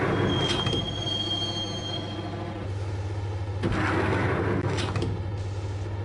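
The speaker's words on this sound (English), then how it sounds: "the train doors had already shut behind me, and I was in for the ride" Train ride in a PS4 video game heading into a gloomy station: steady low rumble of a train car throughout, with a thin high wheel squeal early on and bursts of screeching around the middle and end, no talk.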